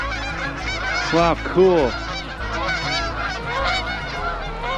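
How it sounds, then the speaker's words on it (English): A flock of geese honks in loud, repeated calls close by on a very windy day by the water, with wind noise throughout and a person briefly exclaiming. "Whoa, look at all the geese."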